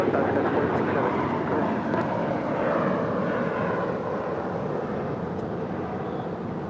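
A Sun Country airliner taking off from runway 25 right at LAX gives a loud, steady broadband jet roar that slowly fades a little across the clip.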